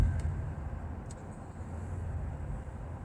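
A 2022 Honda Passport EX-L SUV driving on a road, heard from inside as a steady low rumble of engine and tire noise, moderately quiet and continuous with no talking.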